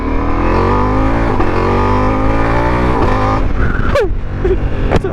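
Ducati Multistrada V4S V4 motorcycle engine revs loudly and close, a steady rich drone with harmonics climbing and falling, then sharp throttle blips near the end.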